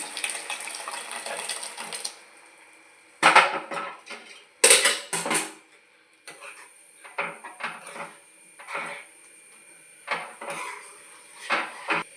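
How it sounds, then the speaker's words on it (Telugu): Cooked dal goes into a tempering in a pot for fenugreek-leaf dal, heard as intermittent clanks of metal utensils against the vessel, a few louder knocks and scrapes separated by quiet gaps. "ఈ ఉడికించుకున్న పప్పుని తాలింపులో వేసేసుకుందామండి"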